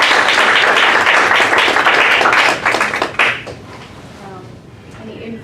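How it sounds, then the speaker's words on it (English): Audience applause at a scholarship showcase, a dense burst of clapping that carries loudly for about three seconds, then thins out and fades into quieter room murmur. "let's just give another round of applause."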